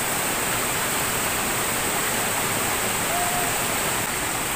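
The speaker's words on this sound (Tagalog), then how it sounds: "Welcome to Tabion Falls mga kagala." Tabion Falls, a waterfall, roars as a dense, constant wash of rushing water, loud and close, with no break throughout.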